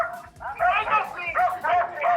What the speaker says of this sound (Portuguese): o cachorro desesperado ali